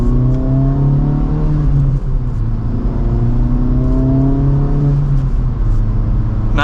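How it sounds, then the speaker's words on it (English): A 2024 Acura Integra Type S with a manual gearbox accelerates in second gear in Sport Plus mode, its engine note rising steadily, dipping briefly at a shift, then climbing again, loud from inside the car. "Nice mild acceleration"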